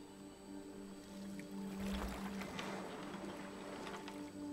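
A small boat moves across calm water in Detroit: Become Human, with a steady wash of lapping water and a low hull rumble that swells in the middle, continuous and close, with no talk.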